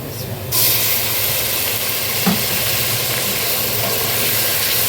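Onions with garlic-ginger paste frying in a pan, a loud, steady broadband sizzle close to the microphone with a brief knock partway through.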